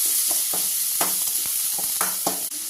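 Garlic and pepper powder sizzle in a pan for a lemon leaf rasam, a close, steady frying hiss broken by repeated scraping stirs of the spoon.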